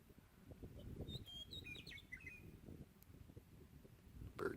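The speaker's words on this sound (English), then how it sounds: "Birds singing." Small birds chirp and trill faintly in open high-desert country at an old Eastern Oregon mining camp, scattered short calls over a soft, steady background rustle.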